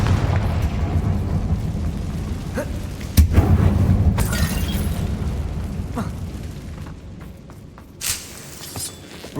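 A Confringo fire spell blasts in Hogwarts Legacy, a sharp explosive boom near the three-second mark followed by rumbling magical effects and a few smaller bursts toward the end, set over steady game ambience.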